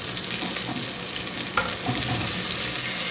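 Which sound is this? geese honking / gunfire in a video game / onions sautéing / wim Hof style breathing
onions sautéing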